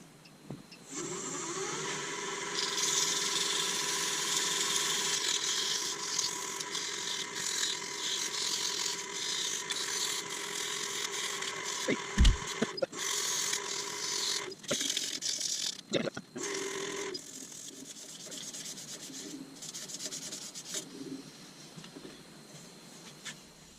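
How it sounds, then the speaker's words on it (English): Steady abrasive whirring of sanding a pen on a spinning wood lathe, continuous and fairly loud, with a few brief knocks and pauses near the end. "I guess we better do some sanding back"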